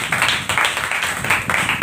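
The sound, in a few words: audience clapping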